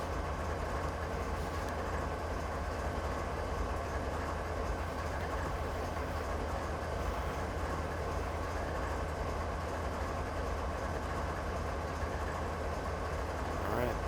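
A train in Train Simulator 2013 on the Granite to Wycon route rumbles along as a steady, low engine drone with mechanical hum, constant and moderately quiet throughout.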